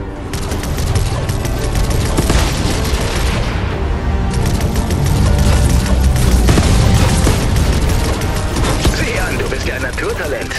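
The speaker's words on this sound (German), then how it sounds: "Die Laser bringen's nicht gegen Galactus, aber sie sollten diese Drohnen leicht erledigen" Rapid bursts of laser fire against drones in Fortnite blast continuously, dense and loud, with booming impacts mixed in.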